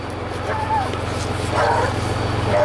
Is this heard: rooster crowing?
no